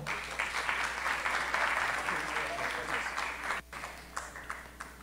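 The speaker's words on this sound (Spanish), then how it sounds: "le damos un aplauso y por supuesto la bienvenida" A seated audience at a Colombian urology symposium breaks into steady, sustained applause to welcome a speaker, a dense wash of many hands clapping at moderate distance that dips briefly and then carries on.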